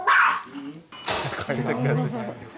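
A small pet dog in a home barks and yips in short, loud, close bursts with a brief pause between them, and may whimper in between.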